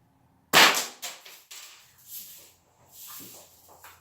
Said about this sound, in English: Why not try shooting it?